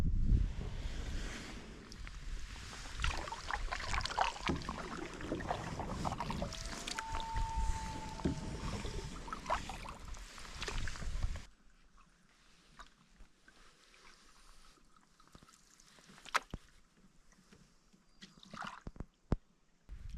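A canoe is paddled solo on Longbow Lake in Algonquin Park, with wind and water rushing close to the microphone. The second half turns quieter, with soft water sounds and a few faint knocks and drips.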